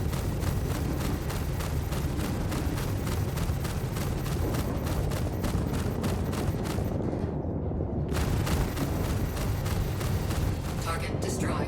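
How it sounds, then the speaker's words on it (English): Ship gunfire and missiles in the Star Citizen space combat game: dense, rapid volleys of shots and blasts hammer on almost without pause, dropping out briefly near the middle before the barrage resumes, loud and close. "This guy just fired missiles at me and is still shooting at me."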